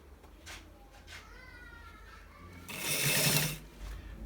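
A sewing machine stitches a shawl collar, a short whirring run of rapid needle strokes near the end after quieter handling sounds.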